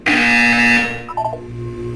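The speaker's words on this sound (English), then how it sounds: "You will hear a buzzer." A loud, steady electronic buzzer from the Portal 2 video game sounds close for about a second, then gives way to a softer descending tonal chime.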